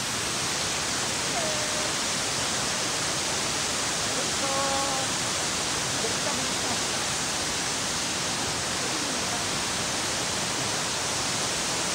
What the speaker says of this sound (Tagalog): Ito ang Mimbalot Falls.